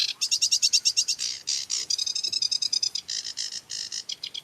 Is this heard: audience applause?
no